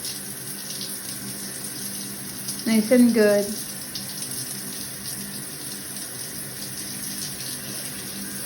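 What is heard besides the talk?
new shower head spraying water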